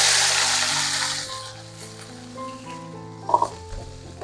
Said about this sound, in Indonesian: Sekali goreng lagi